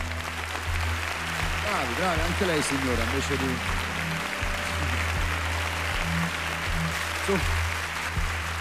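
Arena audience at a Miss Italia fashion evening applauding, a broad steady wash of clapping throughout while a presenter talks over it and music plays underneath.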